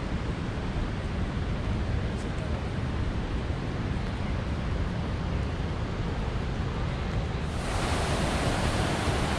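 Steady, loud rush of a river flowing near Athirappilly waterfall in Sholayar forest fills the whole stretch, a dense broadband roar that brightens slightly near the end.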